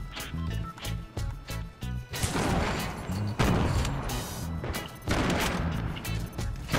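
Sharp gunfire bursts and impacts in a Fortnite match, sniper rifle shots among rapid repeated cracks, loud and close, with occasional voices in the mix.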